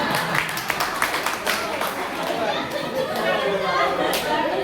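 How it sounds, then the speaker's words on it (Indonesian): Scattered clapping rises from a crowd at a Christian fellowship meeting, mixed with chatter and voices talking over it. "Tepuk tangan."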